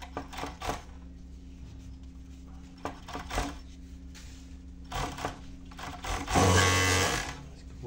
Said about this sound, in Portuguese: Acho que eu vou fazer overlock.